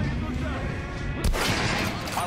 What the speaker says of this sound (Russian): Попробуй выстрелить в центр груди обычного манекена.